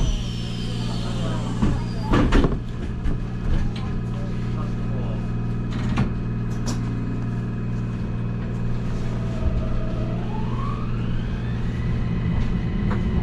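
A Kobe Electric Railway Ao Line semi-express train pulls away toward Shinkaichi under a steady low rumble, with a rising whine of the motor building toward the end and a few clanks early on.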